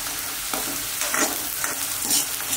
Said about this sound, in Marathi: छानपैकी असं कांदा, ओला कांदा घेतलेला ते भाजून घ्यायचा